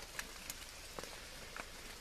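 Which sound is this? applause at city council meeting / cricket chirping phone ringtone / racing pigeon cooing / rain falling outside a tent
rain falling outside a tent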